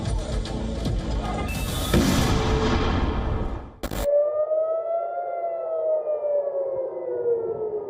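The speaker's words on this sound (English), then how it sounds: "Sirens screamed" Air raid siren wailing during the Israel–Iran conflict, a long rising and falling tone that rings out alone after a burst of loud noisy blasts, fairly distant and sustained.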